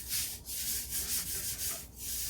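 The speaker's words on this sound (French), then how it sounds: "vous venez huiler votre surface" Oil being wiped over a steel cooking plate before pancakes go on, heard as close, steady rubbing strokes with a few brief pauses and no talk.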